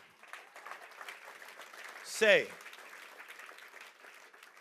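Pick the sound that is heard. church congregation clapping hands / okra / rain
church congregation clapping hands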